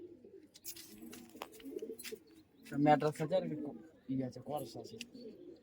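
Giribaz pigeons coo softly nearby, low rolling calls rising in a couple of louder bursts over a quiet background with faint rustling.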